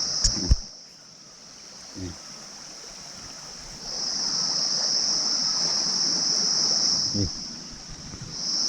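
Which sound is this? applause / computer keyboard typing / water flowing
water flowing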